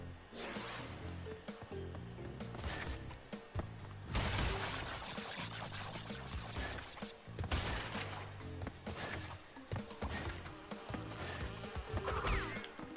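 Bees buzz in Crash Bandicoot N. Sane Trilogy in a loud, steady drone that sits within a busy, dense wash of other game sounds.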